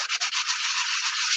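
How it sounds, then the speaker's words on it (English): Hand sanding spot putty on a car body: steady, close, hissing abrasive rubbing that runs unbroken for about a second and a half, with a few quick strokes at the start and no talk. "right now I'm sanding this stuff and it's powdering off"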